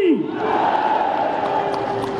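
A large crowd at a gathering at the Kumbh in Prayagraj roars a loud chant in unison, a sustained wall of massed voices that fills the whole moment.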